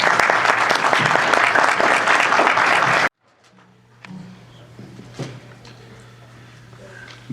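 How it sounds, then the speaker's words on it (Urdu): Sustained, dense applause from an audience at a literary gathering welcoming a speaker, loud and steady for about three seconds before cutting off abruptly, followed by quiet room tone and faint handling noises. "بہت بھرپور تالیوں میں استقبال کیجیے"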